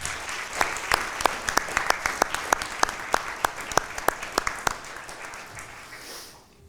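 Steady applause for EMS responders at a Chain of Survival ceremony, a crowd clapping with a few sharp, distinct claps standing out near the front, fading out at the end.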